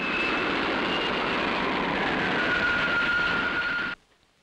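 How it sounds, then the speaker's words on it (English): Spaceship lifting off for Neptune in a 1962 colour space-patrol puppet series: a loud, steady roaring whoosh with a faint rising whine holds for about four seconds, then cuts off abruptly into near silence. "Takeoff program starting now."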